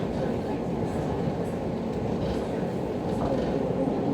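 A London Overground Lioness line train rumbles along steadily at a low, continuous roar, heard from inside the carriage with no break in the noise.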